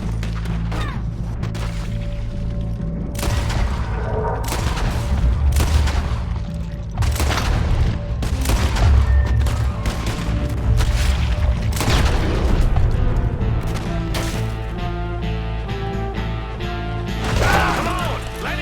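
Red Dead Redemption 2 shootout: loud bursts of gunfire and heavy booms crack repeatedly over a dense, chaotic mix of impacts and mechanical clatter, with shouted voices underneath.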